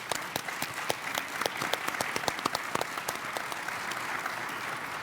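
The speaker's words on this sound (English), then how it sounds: "Don't you think we should clap?" A small audience at an engineering education prize ceremony claps steadily, a patter of many individual hand claps close by, moderately loud and sustained without cheering.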